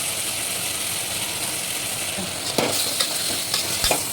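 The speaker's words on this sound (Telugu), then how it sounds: "కలిపేసుకొని కొంచెం మగ్గనివ్వాలి టమాటా" Chilli powder being stirred into tomatoes sautéing in a pan for tomato rice: a steady frying sizzle with a few sharp spoon scrapes and clinks near the end, no talk.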